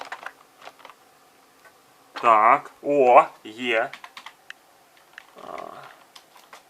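Computer keyboard keys being pressed on an old upgraded tube-style home computer, scattered sharp clicks through the clip, with someone speaking briefly in between.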